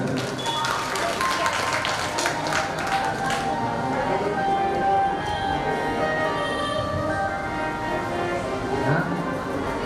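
A crowd at a Radha Krishna temple gathering claps steadily, a sustained wash of many hands at fairly close range lasting throughout, with voices murmuring beneath.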